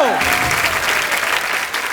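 A studio audience at a comedy talk show breaks into loud, dense applause welcoming guests, a sustained wash of clapping that carries on steadily and dips slightly near the end.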